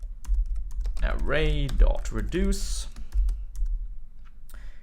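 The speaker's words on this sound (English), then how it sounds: "So sometimes you just start typing" Rapid keystrokes on a computer keyboard while coding JavaScript, clicking in quick bursts underneath a man's close, steady talking.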